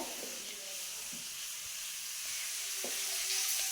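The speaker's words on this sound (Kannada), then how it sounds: "ಆಲ್ರೆಡಿ ಒಗ್ಗರಣೆ ಹಾಕ್ಬಿಟ್ಟಿದ್ದಾರೆ" Steady sizzle of tempering spices in oil with a bright hiss throughout, punctuated by a few soft clicks and pops, close by and fairly quiet.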